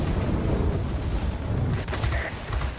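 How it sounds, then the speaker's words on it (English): Dense, continuous rattle of aircraft cannon and machine gun fire during a jet dogfight in a combat flight game, loud and steady with sharper bursts near the end. "And I shoot down an air defense fighter."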